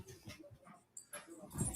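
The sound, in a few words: elderly dog whimpering after being pushed down stairs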